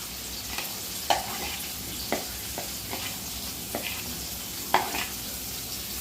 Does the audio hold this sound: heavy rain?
no